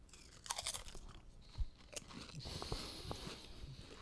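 Close, crunchy chewing of a bite of Argentina-style steak, with irregular wet crunches and bites spread across a few seconds and no speech.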